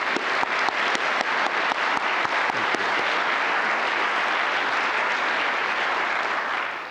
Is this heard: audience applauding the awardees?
yes